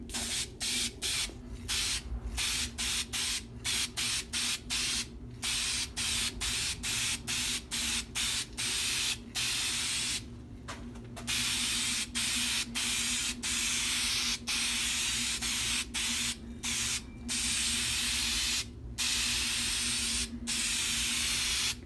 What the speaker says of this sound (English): This type of project, you can use your spray can right to the end.